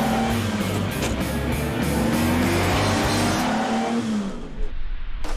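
Ferrari 250 Europa engine hums and revs steadily while driving, a continuous loud car drone that fades toward the end.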